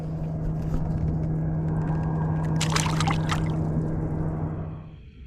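A largemouth bass is let go from a kayak into cold, muddy winter water, giving a brief splash and watery swish over a steady drone, fairly close and loud.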